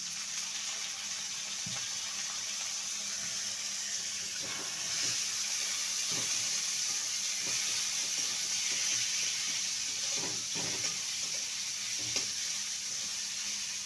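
Chopped tomatoes frying in a pan for a chickpea chola curry, giving a steady close sizzle with occasional stirring scrapes and clinks.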